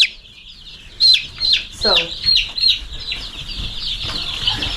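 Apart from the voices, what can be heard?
chickens clucking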